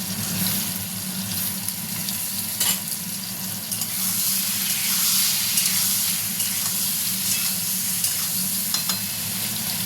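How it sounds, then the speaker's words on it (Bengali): Potatoes fry in oil with a steady, dense sizzle and occasional scraping stirs, close by and moderately loud for the full stretch, with nobody talking. "চলো আলুগুলো ভাজা হতে থাক, লাল করে ভেজে নিই"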